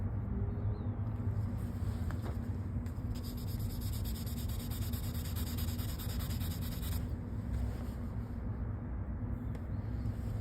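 Fine 1000-grit sandpaper rubbed by hand over a Kawasaki ZX6R motorcycle panel during dent repair, a steady close scratchy rasp that runs continuously with strokes and no talking.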